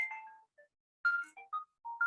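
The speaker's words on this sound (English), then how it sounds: "Sorry, my phone is going off." A mobile phone ringtone chirps in short melodic bursts, a few rising tonal notes with a gap of silence between the first phrase and the rest, heard alone and fairly clear.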